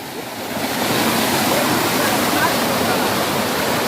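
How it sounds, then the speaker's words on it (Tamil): Erumai Chavadi Waterfalls pours in a dense, steady roar of rushing water that rises at the start and then holds loud and close. "தெரியுதா ஃபால்ஸ்? இதான் ஃபால்ஸ் தான்."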